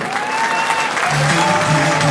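Rally crowd at a political gathering in Paris applauding Imran Khan: continuous dense clapping filling the space, with sustained tones and murmuring voices mixed beneath.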